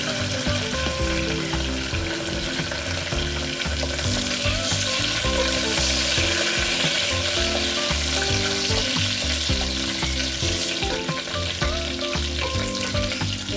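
Dry red chillies and curry leaves fry in hot oil with a loud, unbroken sizzle that lasts throughout, over a steady tonal backing with no talking.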